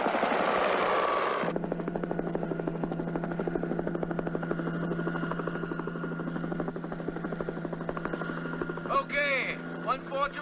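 A helicopter hovers above the water in the Devilfish movie, its rotor chop pulsing steadily and loud. A strong wash opens the stretch, and brief voices and chirping sounds join near the end.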